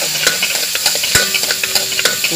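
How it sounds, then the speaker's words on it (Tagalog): Sliced onions sautéed in a pan for Bisaya-style chicken feet, with a spatula stirring and scraping in repeated short strokes over a steady sizzle, close and fairly loud. "Una na to nga igisa na to ang sibuyas."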